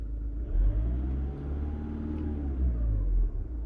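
A VW Caddy's engine runs with a steady low rumble and slight swells in revs, heard from close by with no talking over it.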